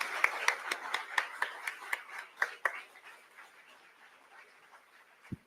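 Scattered hand claps from a graduation-day audience at a college ceremony, a dozen or so distinct sharp claps in an uneven rhythm that thin out and fade, moderately near and not very loud.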